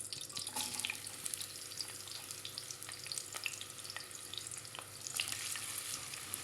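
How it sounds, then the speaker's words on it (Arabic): Onions sizzle steadily in about three spoonfuls of hot corn oil for rice sayadieh, with a soft continuous crackle and occasional scraping of a stirring spoon, no voices. "نضلنا نشوح فيه عبين ايش ما يصير البصل مش ذهبي فاتح"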